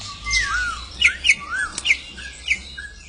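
Captive currupião (troupial) singing nearby, with clear whistled phrases of rising and falling notes repeated in short bursts with brief pauses, no talking over it.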